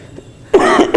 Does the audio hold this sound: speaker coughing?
yes